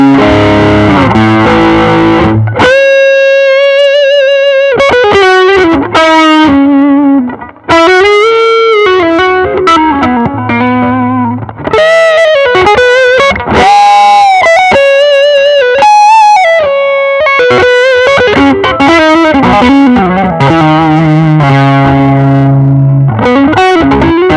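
A distorted electric guitar on its neck pickup, a Gibson Custom Shop '58 or a copy of one, plays a sustained, singing lead melody with bends and held notes, warm and full, continuing alone for over twenty seconds.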